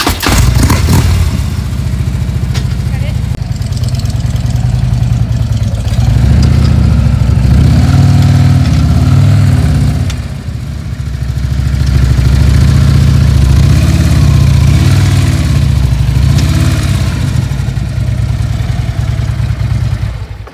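A motorcycle engine runs steadily at close range outdoors for about twenty seconds, a loud, continuous rumble that swells and dips slightly as the bike is rolled onto a wheel chock stand.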